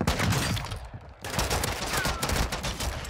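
Rapid pistol gunfire in a video game with dual-wielded pistols: a dense, loud burst of shots, a brief gap, then more quick shots resuming close up.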